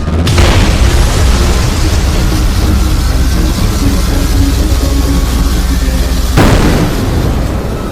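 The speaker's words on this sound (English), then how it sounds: "lets loose with an optic blast. The Sentinel reels, Scott then opening his eyes" A cartoon optic blast tearing into a Sentinel robot's head, a loud, sustained roaring blast of energy with a sharp onset, continuing at full intensity before a second surge near the end.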